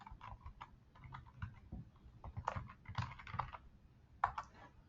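Someone types a username and password on a computer keyboard, quick irregular key clicks in short bursts, close and fairly quiet, with no talking.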